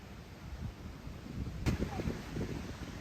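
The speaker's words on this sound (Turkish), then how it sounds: "Hafiften de rüzgar esiyor." Light low wind buffets the microphone in soft gusts at Kamala Beach, Phuket, with a faint murmur of distant voices beneath.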